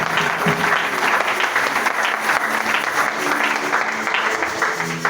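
A church congregation applauding in praise, a dense steady clatter of many hands clapping together for the full stretch, loud and continuous with a roomy crowd wash behind it.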